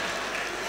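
Audience clapping at a district-level government employees' sports and cultural event, a steady dense patter of many hands filling the hall, moderately loud and continuous with no voices.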